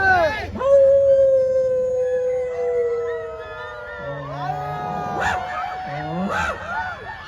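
A dog howls in one long, wavering, drawn-out note, followed by several shorter rising and falling howls, loud and fairly close.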